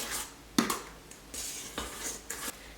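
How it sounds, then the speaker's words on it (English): Flour being stirred into cookie dough in a mixing bowl, a few scraping clinks of the spoon against the bowl and soft rubbing strokes, close and fairly quiet, with no talking. "we just want to stir until the flour's mixed in"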